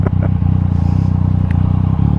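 A Yamaha MT-09 motorcycle with an Akrapovic exhaust gives a loud, close, continuous deep engine burble with crackling pulses throughout, with no talking.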